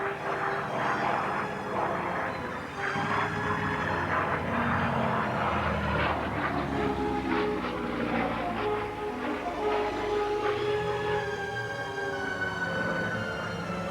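Several Republic P-47 Thunderbolt fighters flying in formation, a steady, loud, continuous propeller-engine drone with shifting harmonic tones that holds without a break.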